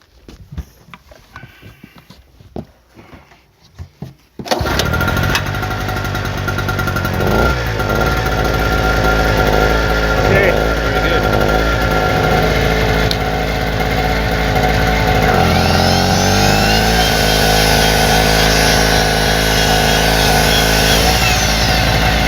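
A two-stroke generator engine on fresh fuel, in a rural Australian workshop: after a few seconds of scattered clunks and pulls it catches and runs continuously, a loud, steady buzzing drone with slight shifts in pitch.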